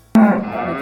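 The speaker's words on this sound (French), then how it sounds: "C'était le mugissement de la vache." A single low, drawn-out moo bursts in loudly and holds steady, tapering slightly toward the end, with no other sounds around it.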